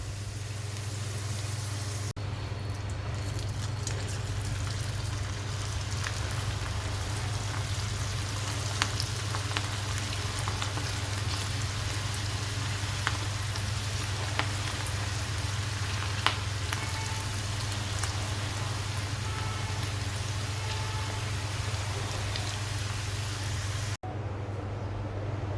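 Cabbage deep-fries in hot oil for catering-style Cabbage 65, giving a steady, dense sizzle with faint crackles over a low constant hum, unbroken throughout.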